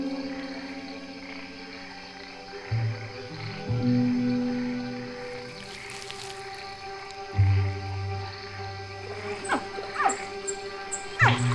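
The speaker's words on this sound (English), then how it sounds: "They make a sound to summon their mom." Caiman hatchlings in the Pantanal wetlands of Brazil call to summon their mother, giving repeated short nasal grunting chirps against a quiet wetland background.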